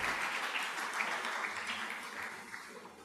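A church congregation at a French-language Bible study applauds in a short burst of dense clapping that fades slightly over about three seconds.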